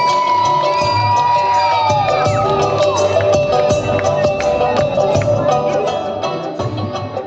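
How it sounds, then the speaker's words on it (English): Loud audience at the Miss Orchard Avenue 2022 pageant cheering and whooping for the contestants, with children shouting and crowd noise sustained throughout, easing slightly toward the end; a whistle-like tone rises over the din. "Let's have a lot of cheering and a lot of noise for all our contestants."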